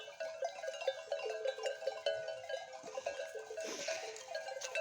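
A flock of sheep grazing on a mountainside, with overlapping bleats and bell clinks close by and sustained throughout, rising into a denser burst of calls near the end.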